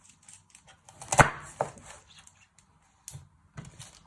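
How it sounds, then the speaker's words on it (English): A knife chops the end off a vegetable on a cutting board for chicken and vegetable soup: one sharp thud, then a few quieter taps and knocks with pauses between. "Then you chop the other end."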